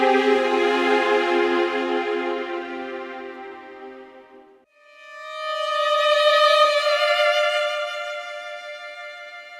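Orchestral string ensemble from the String Contours 2 library, sustained chords swelling over two bars then fading over one, a brief dip, then rising again, full and smooth with no voices.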